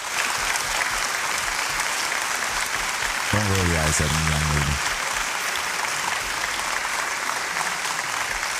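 An audience claps loudly and steadily throughout, with a brief spoken voice cutting in over the applause partway through.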